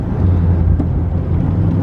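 A 1956 Chevrolet Bel Air sedan cruising steadily on the road, with a constant low engine drone and road rumble filling the cabin, smooth and even throughout with no rattles.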